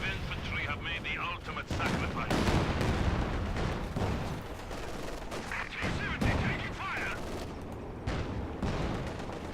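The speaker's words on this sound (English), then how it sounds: "Close range Katyusha barrage because the pack's so far forwards." A Katyusha rocket barrage in the video game Company of Heroes 2 fires at close range as a dense, continuous roar of blasts and rumbling impacts, with commentary voices mixed in.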